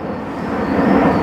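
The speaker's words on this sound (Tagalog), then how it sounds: "Medyo maingay lang sa park, At saka maraming eroplano dumadaan." An airplane passes overhead above a park, a loud broad roar that swells toward the end, heard alone without talk.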